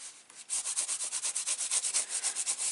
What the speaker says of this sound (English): And I'm just going to turn it over and rub from the back.